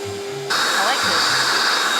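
A small handheld vacuum cleaner switches on after a brief pause and sucks up debris with a steady, close, loud whirring rush, with faint voices briefly audible beneath it.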